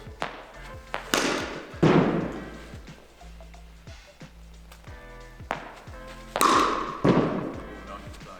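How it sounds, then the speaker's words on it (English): A Chase Vortex cricket bat strikes cricket balls in a net session, several sharp woody cracks spaced a second or more apart, close and loud, with some speech between hits. "Let's see how we get on hitting some balls."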